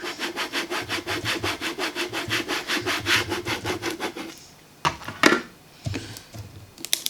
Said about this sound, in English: I'm going to go in with my scraper and just give it a really good scrape